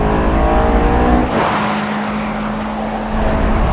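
A Honda car engine revs hard after a downshift, a loud, close and sustained drone that holds steady throughout.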